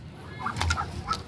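Muscovy ducks giving a few short, breathy calls close by, soft hisses and low clucks over about a second.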